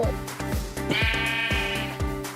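Sheep in Minecraft bleat in quick succession, several loud wavering baas overlapping one another up close amid repeated low thumping game sounds.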